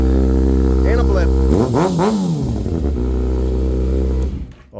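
A 2009 Kawasaki Ninja ZX-6R Monster Edition idles loudly up close, then one sharp throttle blip sends the engine revving up and back down before it settles to a steady idle and cuts off.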